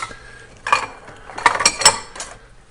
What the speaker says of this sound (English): We're getting out the sauce whisk